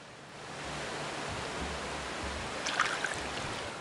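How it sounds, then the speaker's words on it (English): A waterfall in the video game The Frostrune flows with a constant broadband rush. Near the end comes a faint brief clinking. "Let's go back down to the waterfall."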